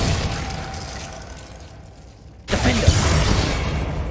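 Confringo fire spell going off in Hogwarts Legacy, a sudden loud burst after a quiet fading stretch, followed by a crackling roar that lingers for over a second.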